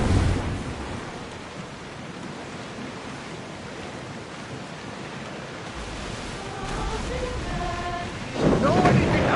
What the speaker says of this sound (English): There's a storm ahead!